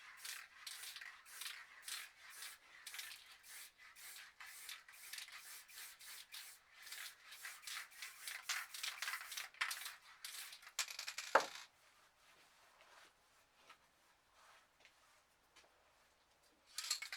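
Black spray paint sprayed over a painting, a string of short hissing bursts in fast rhythm, close and soft, then one sharp knock followed by near silence and faint handling.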